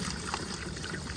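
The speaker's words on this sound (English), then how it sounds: "We pour half gallon of antifreeze" Antifreeze trickles down a swimming pool pipe during winterizing, a brief, steady liquid pour with a soft gurgling stream.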